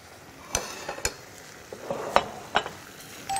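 Seasoned chwinamul wild greens are stir-fried with olive oil in a hot pan, heard as a soft sizzle with scattered sharp clinks and scrapes from stirring, close and without talk.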